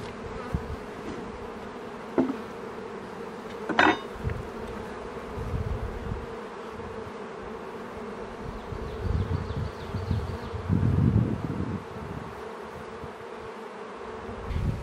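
A steady, low insect drone of many honeybees humming together around a hive entrance, with a few brief sharper buzzes passing close by.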